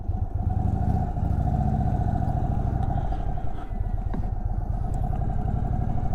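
An Indian Sport Chief RT motorcycle rumbles along the road with a steady, loud engine drone and deep low-end throb, close and continuous throughout.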